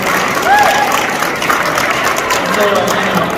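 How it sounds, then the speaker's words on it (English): An audience claps for a state representative at a Disability Rights Awareness Day gathering in a State Capitol, the applause loud and steady with a few voices mixed into the crowd noise. "So let's give a round of applause for Representative Thompson."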